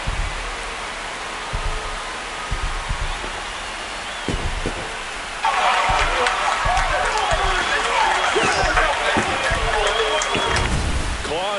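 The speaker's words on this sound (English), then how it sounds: "This crowd has really come alive. This place is loud." A baseball stadium crowd in the MLB The Show video game roars and cheers, swelling suddenly louder about halfway through and holding as a dense wash of noise beneath commentators talking.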